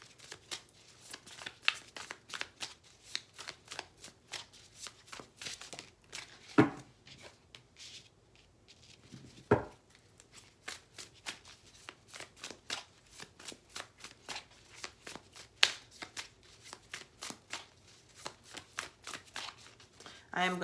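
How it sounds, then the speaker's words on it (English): Tarot cards being shuffled by hand, a long run of quick crisp riffles and soft card slaps repeating at a fairly even pace, close and fairly quiet, heard alone. "I am going to shuffle the cards out first"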